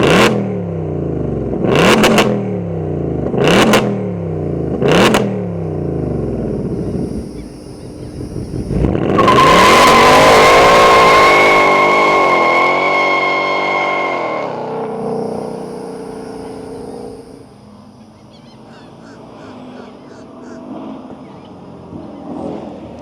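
A Hennessey H850 supercharged Ford Mustang Dark Horse V8 gives three sharp, loud revs, then a long roaring rev that winds down into a rumbling idle, close and powerful.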